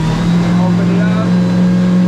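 The outboard engine of a 15-foot Stabicraft boat roars at full throttle, holding a steady high-pitched drone right against the rev limiter, loud and continuous.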